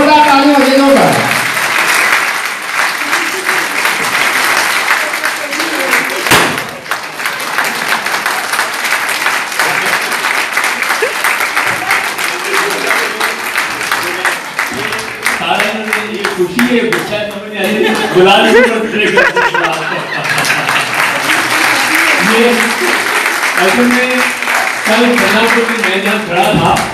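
Audience applause at an event in a Ceragem therapy center in Islamabad, clapping that continues throughout while people talk loudly over it, with a brief dip partway through.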